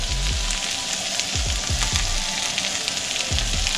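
Catfish fries skin side down in a hot pan with a steady, loud, close sizzle and a few soft low bumps underneath.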